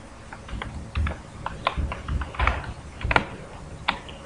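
Typing XML code on a computer keyboard gives close, irregular clusters of key clicks and taps, quick bursts with short pauses between them, fairly quiet and heard alone.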